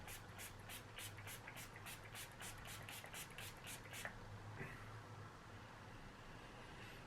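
A fine-mist makeup setting spray gives about a dozen quick, evenly spaced spritzes over a steady low hum, then falls silent.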